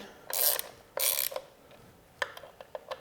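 A hand ratchet snugging the clutch cover bolts on a 2018 Harley-Davidson Softail Slim, with two short bursts of rapid clicking followed by a series of sparse individual clicks, close up and fairly quiet with no talking.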